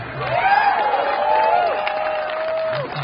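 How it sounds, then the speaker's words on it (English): Crowd at an IndyCar event applauding and cheering for Ty, the welder who built every roll cage, with a dense wash of clapping and a few rising whoops and whistles, fairly loud and sustained. "I think all the drivers should be clapping right now"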